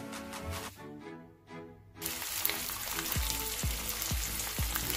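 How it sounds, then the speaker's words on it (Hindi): Zucchini slices browning in a pan for vegetable biryani, a steady hissing fry that starts after a brief lull, with a few soft thuds of slices being placed or turned, no voices. "सारी जो काली तोरी है सुकीनी आपने इसी तरह आपने पैन में डालकर इसको आपने ब्राउन करना है"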